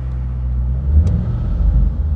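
A 2007 Ford Mustang engine revving close by, a loud deep rumble that swells briefly and settles, with no voices.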